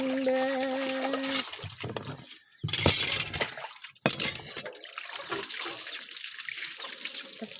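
Tap water gushes loudly into a sink for a short burst, then splashes again briefly amid clinks of dishes, with a faint tonal hum before it and quieter handling afterward.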